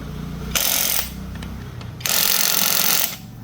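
An electric impact wrench loosening a nut fires in two loud, close bursts, the first under a second long and the second about a second, separated by a quiet pause.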